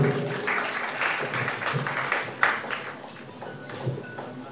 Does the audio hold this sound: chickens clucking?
no